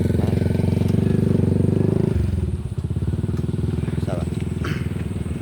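Motorcycles pass along a busy road in an industrial town, a loud engine drone close by that shifts in pitch as one rides past, with more traffic behind and a voice talking over it.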